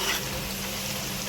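French fries crackle and hiss steadily in hot oil, a dense, close, continuous frying sound with no voices.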